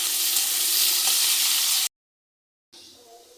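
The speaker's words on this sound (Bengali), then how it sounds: "এরপর আমরা পেঁয়াজ কুচি দেব, দিয়ে পেঁয়াজটাকে ভালো করে বাদামি রং হওয়া পর্যন্ত ভাজতে হবে।" Chopped onions fry in a pan for brown-onion curry base with squash and prawns, giving a loud, steady hiss and crackle that cuts off abruptly, then returns more softly after a silent gap.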